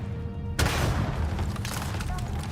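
A single loud booming gunshot in the video game Starfield, sudden and heavy, followed by a rumbling tail and faint game sounds.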